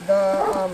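A dog lets out one short, high whine close by inside a traveling van, lasting under a second, with a brief word spoken.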